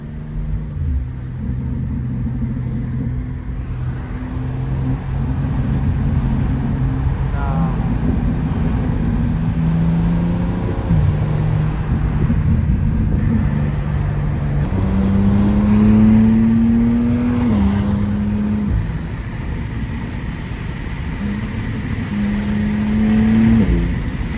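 Straight-piped BMWs, an M2, an X3M Competition and a six-speed manual 335i, rev and pass on a quiet backroad, with loud raspy exhaust rising and falling in pitch over a constant rumble.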